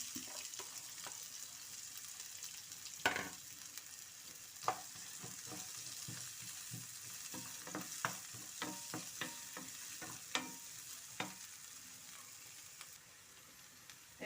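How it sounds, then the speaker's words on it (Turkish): Onions sizzle steadily in a hot pan while being cooked until golden for eggplant moussaka, with a spatula scraping and tapping the pan every second or so. No voices. "soğanlarımızı sarartalım."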